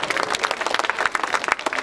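An audience at a Hindi comedy show claps in a dense, continuous burst of applause, lively and fairly close, with no talk over it.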